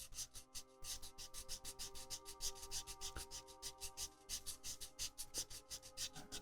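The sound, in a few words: sanding stick sanding a 1/24 Airfix Spitfire model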